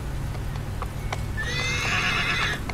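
A horse in the video game Shadow of the Colossus neighs loudly in a long whinny partway through, following several soft hoof clip-clops over a steady low ambient hum.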